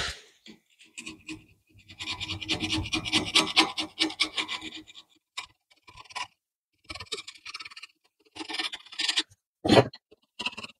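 Hand sanding of an old rusty steel guillotine with coarse P120 paper, a close rasping scrape in bursts of steady back-and-forth strokes with short pauses between, no talk.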